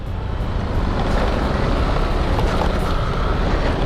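A Yamaha Aerox 155 scooter out on a ride gives a steady, loud rush of engine and wind noise with no pauses.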